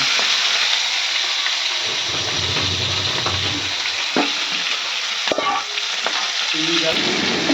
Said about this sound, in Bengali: এবার মাছগুলো একটু ভেজে নিচ্ছি।